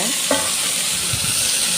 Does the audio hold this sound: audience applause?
no